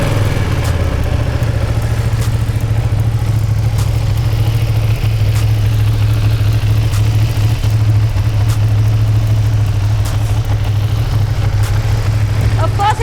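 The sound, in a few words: Ducati Panigale V2 motorcycle engine running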